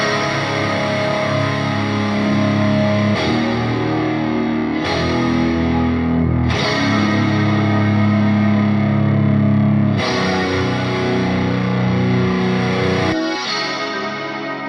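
Layered electric guitars, a clean chiming part over thick distorted chords, washed in chorus and echo, loud and sustained, changing every few seconds.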